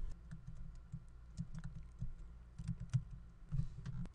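Soft, quick typing on a computer keyboard, faint and close, with an irregular patter of keystrokes and a few firmer taps.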